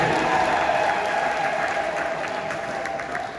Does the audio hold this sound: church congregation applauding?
yes